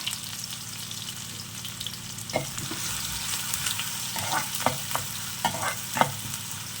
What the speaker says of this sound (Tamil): நல்லா வதங்கட்டும் ஆனியன்